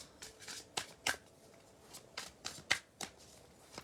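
Tarot cards being shuffled by hand: a quick run of crisp riffling bursts and soft slaps, close and fairly quiet, with no talking.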